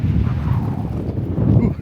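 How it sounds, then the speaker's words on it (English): Strong outdoor wind buffeting the microphone on an island, a steady loud low rumble that swells and fades without pause. "Ooh, it is really windy out."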